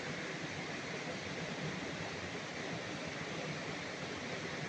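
River water rushing steadily near a fig tree in the Sungai Sedik area at Bukit Genting Lanjak, a constant broadband roar with no pauses and no voices throughout.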